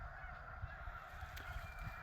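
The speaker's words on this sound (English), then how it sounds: "there's a fair amount of snow geese still here." A dense, continuous chorus of honking snow geese, a large flock heard from a distance during spring migration, with no talking.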